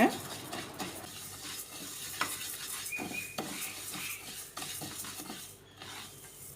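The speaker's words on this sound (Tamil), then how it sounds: "லோ ஃப்ளேமில் வச்சு ஃப்ரை பண்ணி நம்ம பொடி பண்ணிக்கலாம்" Moong dal is dry-roasted over a low flame, stirred with a spatula that scrapes and clinks against the pan in repeated strokes over a faint sizzle.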